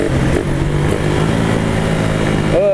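A Suzuki Belang R150 motorcycle engine runs steadily with a loud, close, continuous drone that holds an even pitch throughout, with brief rustling at the very end.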